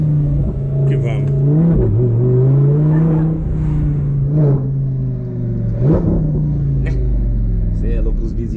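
Audi R8 engine revving on a residential street, with deep rising and falling revs and rumble throughout while someone talks over it.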